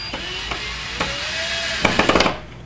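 The bottom screw of a low voltage drywall mud ring is tightened, giving a few light scraping clicks and a rising squeak, then a quick burst of ratcheting clicks near the end, close and fairly loud.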